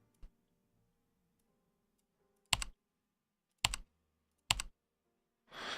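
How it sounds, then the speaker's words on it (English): Three sharp, isolated clicks on a computer keyboard, spaced about a second apart, each loud and close, with a brief softer rustle at the end; no talking. "Who typed on the keyboard?"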